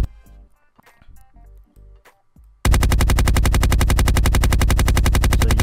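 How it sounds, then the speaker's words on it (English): Rapid automatic gunfire in a game under development, firing about nine to ten shots per second, starts abruptly after quieter sounds and continues as a loud, steady stream to the end. "we are shooting at the rate of, I think, 9 to 10 splatter per second"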